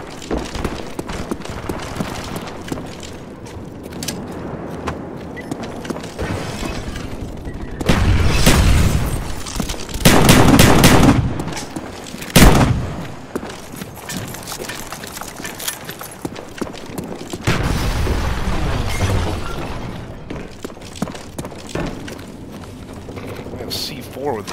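Black Ops shotgun fire on the Havana map, a few heavy booming blasts standing out from steady in-game noise and footsteps, with a person talking over parts of it.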